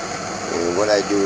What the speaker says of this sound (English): And I'm going to take a torch and heat her up